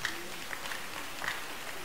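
A church congregation claps for Jesus during a sermon, a soft, steady, distant patter of many hands with voices faintly mixed in.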